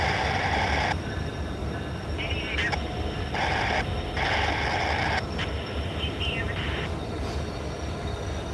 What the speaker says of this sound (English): The train that's passing by right now, the train sitting in front of us, I believe has a crew member on board.